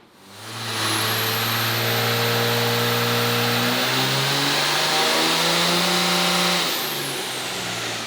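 A first-generation diesel truck revs hard on a dynamometer before tuning, its engine climbing in pitch through repeated steps to a loud, sustained high-rpm roar and then dropping back near the end.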